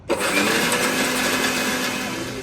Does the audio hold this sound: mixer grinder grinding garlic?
yes